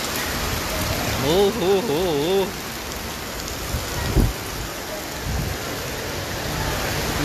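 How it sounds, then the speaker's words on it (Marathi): Heavy rain pours down at Legoland Dubai, a steady, dense broadband hiss of drops beating on surfaces throughout, with brief shouting voices near the start. "सगळ्या दुबई मध्येच बहुतेक पाऊस एवढा जोरात पडत आहे की पूर्ण भिजून गेलेत"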